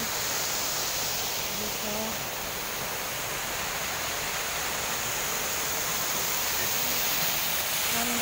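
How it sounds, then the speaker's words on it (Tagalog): A waterfall at Singapore Botanic Gardens roars as a steady, loud broadband rush close by, with a voice briefly speaking over it. "Ayan po guys. Falls nila, ayan."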